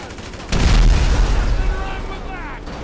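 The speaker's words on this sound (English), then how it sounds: "I can't even see who's shooting me." A loud boom bursts out mid-way during a Grand Theft Auto V gunfight, followed by a long fading rumble and ringing tail, close and heavy.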